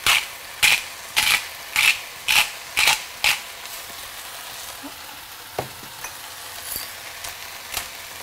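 A pepper grinder twisted over a Vietnamese stir-fry gives about eight crisp, evenly spaced grinding bursts in the first few seconds, then a few softer, scattered clicks over a quiet background.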